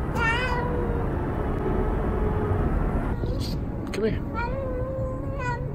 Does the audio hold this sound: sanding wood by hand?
no